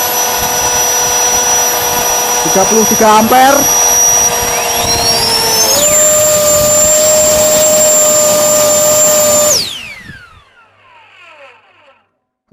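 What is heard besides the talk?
non-brand jet fan running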